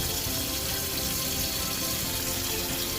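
Water pours in a steady, continuous rush into a pressure cooker while pork leg is prepared for boiling, loud and close, with no voices heard.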